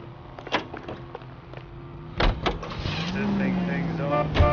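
A car in L.A. Noire set in 1947 Los Angeles starts moving with door and mechanical clunks, then a rising engine drone, while people talk over it.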